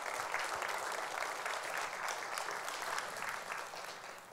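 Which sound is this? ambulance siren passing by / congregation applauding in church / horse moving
congregation applauding in church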